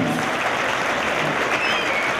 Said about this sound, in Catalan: Un bon aplaudiment per a aquesta persona habitual al rem